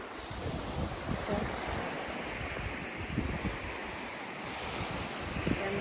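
Sea waves wash onto a white sand beach in Latvia, a steady broadband surf hiss with gentle swells rising and falling, mixed with wind rumble on the microphone and no voices.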